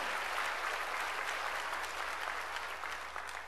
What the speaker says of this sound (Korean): 박수로 하나님께 영광을 돌려야 된다